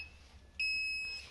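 A Kelly electric motor controller sounds a long, steady electronic beep partway through, a clear pure tone that starts abruptly and sustains against a quiet background hum.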